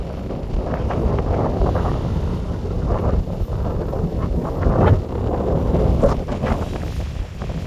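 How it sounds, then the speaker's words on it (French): Strong wind roars steadily and loudly across the microphone on a KTM 690 Enduro motorcycle ride, with gusty buffeting and a low rumble throughout. "Vous devez l'entendre, le vent s'est levé"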